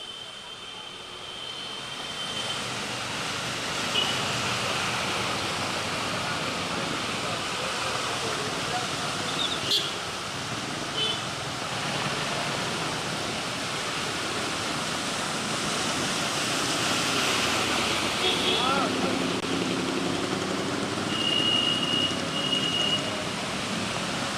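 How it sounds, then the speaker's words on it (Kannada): Heavy rain pours onto a waterlogged road in Bengaluru, a dense, steady hiss and wash of water that holds throughout, with faint passing traffic noise mixed in. "ಸಂಜೆಯ ವೇಳೆ ನಿರಂತರವಾಗಿ ಸುರಿದಂತಹ ಭಾರೀ ಮಳೆಯಿಂದಾಗಿ ರಸ್ತೆ ಸಂಪೂರ್ಣವಾಗಿ ಜಲಾವೃತವಾಗುತ್ತಿದೆ"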